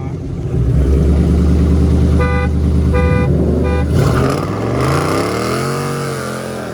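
Car horn blasts at a JDM car meet, three short honks in quick succession over loud engine rumble and revving, with a vehicle accelerating away near the end.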